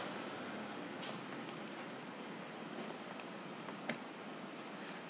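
Keys tapped on a computer keyboard while entering a login ID, soft scattered clicks at low level over a steady background hiss, with a sharper tap near the end.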